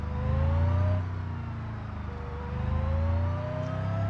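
A car in a driving video game accelerates hard on a drag run, its engine whine climbing in pitch, easing off once, then surging and climbing again, loud and continuous with no talk.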